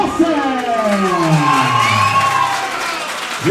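A large crowd at a live cage-fighting event in Bradford cheers, whoops and roars loudly and steadily as two fighters enter the cage, the noise filling the whole stretch.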